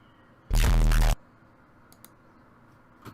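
A short, loud burst of the Roblox oof sound effect plays once, abruptly cut off, followed by quiet background with a few faint clicks.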